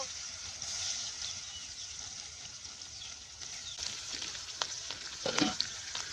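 Pangas fish fries in hot oil in a village kitchen, a continuous bright sizzle with a few stirring clicks and crackles building toward the end, fairly close, with no voices.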